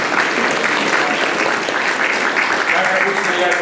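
Applause from an audience at a literary prize ceremony in Cheboksaries, a dense, steady wash of clapping that holds at full strength for the whole stretch, close and loud with no pauses.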